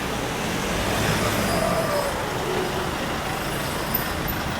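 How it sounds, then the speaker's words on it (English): Dense traffic on a narrow street in Thailand rumbles steadily, with a truck passing close by under a constant road-noise wash. "A lot of traffic today."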